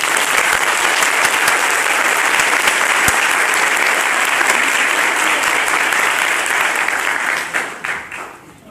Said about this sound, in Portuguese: pedir uma salva de palmas para vocês